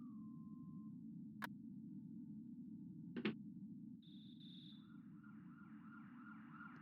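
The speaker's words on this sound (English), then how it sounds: "There are the police sirens." Police sirens in the SNES game Earthbound: quiet synthesized wailing tones rising and falling after a few sharp electronic blips, over a steady low hum.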